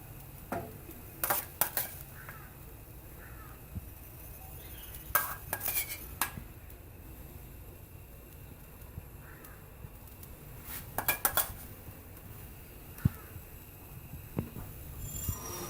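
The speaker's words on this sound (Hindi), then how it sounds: "अब मैं सारा मिक्सचर इस पर डाल दूँ" Egg mixture poured and spread onto a paratha roti in a home kitchen, heard as scattered metal utensil clinks and scrapes against cookware, with several quick clusters of clatter over a quiet background.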